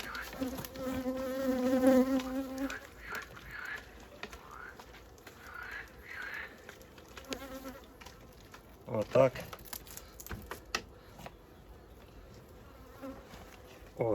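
Ukrainian steppe honeybees hum in a steady, dense buzz close by at an open hive, with a voice speaking now and then over the droning swarm.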